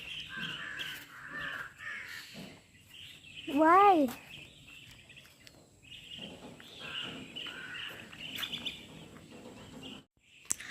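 Several crows caw repeatedly, with one loud close caw standing out among other bird calls, while people talk quietly in the background.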